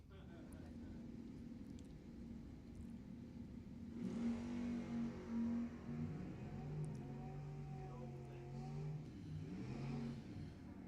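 Small block Chevy powered Monte Carlo drag cars at a dragway, engines rumbling low then rising into strong revving with clear rising and falling pitch, loud and close, with an announcer talking over the engines.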